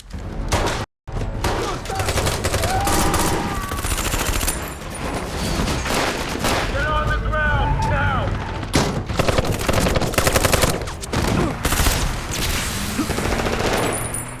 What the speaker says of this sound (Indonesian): baku tembak pun terjadi begitu intens